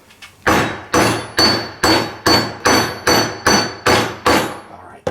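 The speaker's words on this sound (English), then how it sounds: "I'm going to go ahead and tap this bearing a little, get it out as far as I can." A nylon piece taps the rear ceramic bearing out of a 2017 Suzuki GSX-R1000 motorcycle. About ten close, sharp knocks land in an even, steady rhythm, and each has a short ringing decay.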